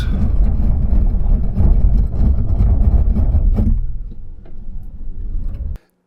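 Heavy rumbling road and tire noise from a Hyundai Ioniq 5 on winter tires under hard braking, loud and dense with ticking texture, then dropping abruptly to a quieter hum as the car slows before cutting off.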